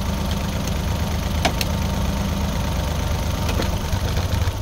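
A Suzuki DA63 K6A engine idles close by with a constant, throbbing mechanical drone and a faint knocking tick, steady and loud throughout.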